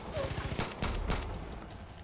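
A machine gun firing in the video game Far Cry 5, a quick rattling burst of rapid shots up front followed by a few heavier blasts, under a player's voice.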